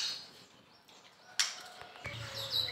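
Bright, whistled song of a white-rumped shama in short phrases, fairly close, with a sharp click partway through and light background noise.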